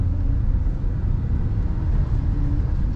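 A car engine drones steadily in first gear during city driving, a low continuous rumble heard from inside the cabin with no voices.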